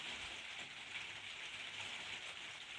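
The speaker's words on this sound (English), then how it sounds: "rainy day" Soft, steady rain falls in a continuous faint hiss, even and unbroken with no voices, heard quietly from a distance.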